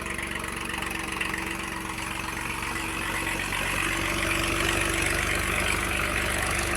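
A New Holland 3032 TX tractor engine with a new silencer idles and runs steadily with a low, even rumble that swells slightly louder toward the end, with no talking.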